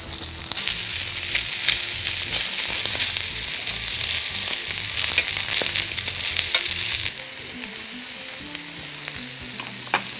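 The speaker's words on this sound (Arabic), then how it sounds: "انا عايز احط شويه بصل يعني نونه كده هنا، اديها تشويحه بس" Onions sauté in a hot pan with a loud, dense, continuous sizzle and spatula stirring scrapes, close up; the frying eases slightly toward the end.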